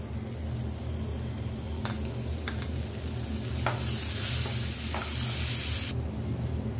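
Cashews and raisins fry in a pan for custard kunafa, making a steady sizzle with occasional sharp spatula taps and scrapes. The hiss swells louder and brighter midway, then eases.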